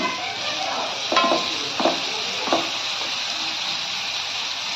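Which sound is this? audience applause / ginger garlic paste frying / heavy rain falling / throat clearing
ginger garlic paste frying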